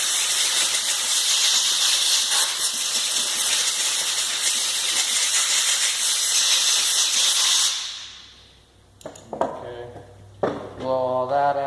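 Compressed air blasting through a chainsaw's drum and sprocket area during maintenance, a loud continuous hiss for about eight seconds that cuts off, followed by short clicks and a brief squealing noise.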